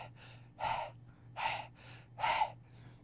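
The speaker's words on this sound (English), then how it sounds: "I hear someone breathing heavily." Heavy breathing in the video game Postal 2: three loud rasping breaths with quieter ones between them, close and rhythmic over a low steady hum, with no talk.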